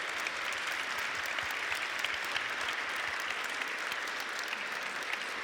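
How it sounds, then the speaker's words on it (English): Audience applause at the Stockholm Peace Talks 2017 event fills the room, a steady dense patter of many hands clapping at an even level throughout, with no voices over it. "Please give her a round of applause."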